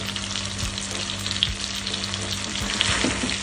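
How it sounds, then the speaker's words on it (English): Butter and olive oil simmer in a pan over low heat, giving a steady close hiss of frying with a few soft stirring clicks throughout, with no voices. "A little bit simmering in the butter."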